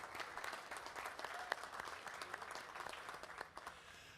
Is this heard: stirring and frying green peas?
no